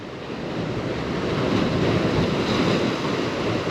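Big sea waves surging against a rocky shore at a rock-fishing spot, a loud continuous roar swelling toward the middle, with wind buffeting the microphone.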